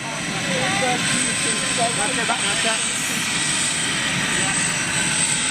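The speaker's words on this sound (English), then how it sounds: "What a beautiful aeroplane." A British Airways jumbo jet in retro livery arrives at Heathrow with a steady, loud engine roar that fills the whole span, while someone talks over it.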